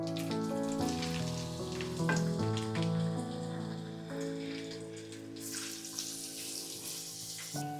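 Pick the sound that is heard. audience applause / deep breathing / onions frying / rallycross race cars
onions frying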